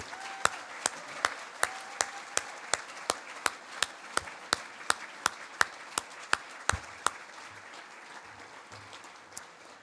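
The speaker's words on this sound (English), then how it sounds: "Please, one more round of applause for all of our honorees." An audience at a hall of fame gala applauds its honorees. Individual sharp claps ring out in a steady rhythm over a bed of lighter clapping, fairly close and clear, with no talk over it.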